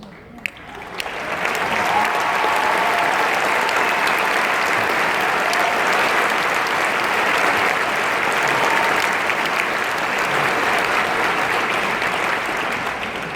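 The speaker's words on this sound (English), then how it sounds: "please stand to receive one last round of applause from your FAU fans" A large crowd of fans at a university ceremony applauds student athletes, loud and dense clapping that swells in after a brief quiet start and carries on steadily throughout.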